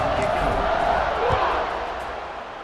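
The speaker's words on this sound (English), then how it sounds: "this crowd is buzzing after that last score" A stadium crowd in the EA Sports College Football 26 video game buzzes steadily after a touchdown, a dense roar that slowly fades, with a commentator talking over it.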